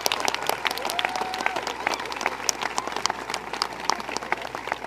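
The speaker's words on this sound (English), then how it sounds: "can we just give these four just a big round of applause" Steady crowd applause fills a high school graduation ceremony hall, dense overlapping claps with a few sharper hand strikes standing out, sustained for several seconds.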